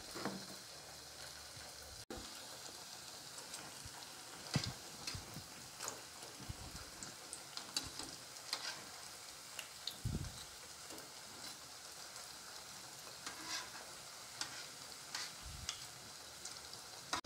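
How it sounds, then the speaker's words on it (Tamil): Maggi noodle samosas fry in hot oil, a quiet continuous sizzle with soft crackles and a few faint knocks of utensils, no voices. "ஆயில் சூடேறிச்சு. ஆயிலில் போட்டுடலாம்."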